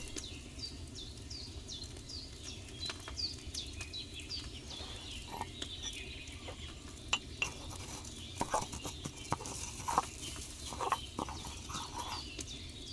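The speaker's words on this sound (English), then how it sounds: "take 1 handful of sage, grind it with a mortar and pestle, and drop it in the cauldron" Sage is ground with a mortar and pestle in Kingdom Come: Deliverance II, heard as faint scraping and knocking clinks under background chicken clucks from the game's setting.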